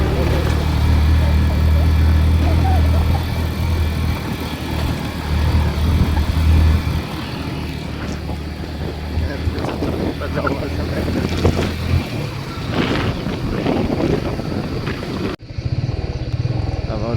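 A motorbike carries riders along a road toward Kulekhani and Chitlang, its engine a steady low drone with wind rush, while riders talk over it; the noise drops off abruptly near the end.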